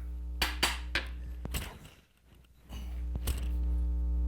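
A big copper brick taps a metal workpiece down into a vise in a shop. Five sharp, separate knocks land over a steady low machine hum.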